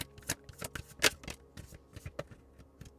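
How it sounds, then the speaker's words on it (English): Tarot cards shuffled by hand at a desk, a series of quick crisp riffling flicks and taps in an irregular rhythm, close and fairly quiet with no voice. "I have to be careful how fast I shuffle because it shakes the desk even if I'm not touching the desk"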